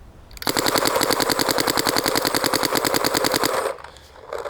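Planet Eclipse CS3 and CS2 paintball markers fire a loud, rapid, steady stream of shots for about three seconds, a near-continuous mechanical rattle that stops abruptly.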